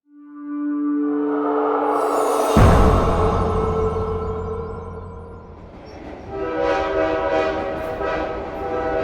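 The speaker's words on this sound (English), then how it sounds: "Harlequin and Lisette sat in the cosy premiere class of the Eurostar 3 train, streaking through the Channel to London." Eurostar train racing through the Channel Tunnel, a loud sustained rumble with a long horn-like tone at the start, a sudden surge in roar partway through, then steady rolling noise with tonal whine.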